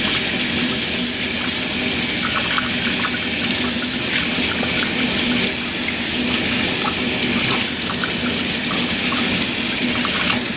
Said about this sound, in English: I'm going to rinse my hands off and we'll see how much of that Glo Germ washes away now.